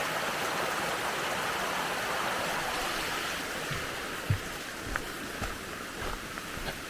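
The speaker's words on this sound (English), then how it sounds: "This little waterfall. This creek." Water from a little spring-fed creek tumbles steadily over a small waterfall along a trail of ferns and ancient beech trees, a constant nearby rush broken by a few soft splashes and knocks, with no talking.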